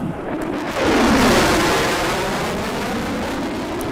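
A Sukhoi Su-34 fighter jet flies during an air strike, a loud broad roar that swells after the first second and then holds steady before slowly easing, with no talk over it.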